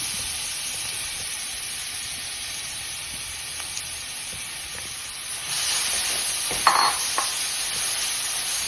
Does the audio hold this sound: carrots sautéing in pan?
yes